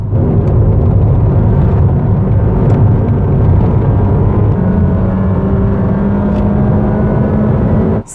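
Honda HR-V with a CVT gearbox accelerating in sport mode: a steady, loud engine drone with a fairly constant pitch, continuous for about eight seconds before cutting off abruptly at the end.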